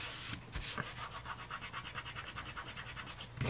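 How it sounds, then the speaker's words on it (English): Glue is rubbed off a surface with quick, regular back-and-forth strokes, about two dozen even scrubbing passes in a close, soft, steady rhythm. "Get that glue rubbed off."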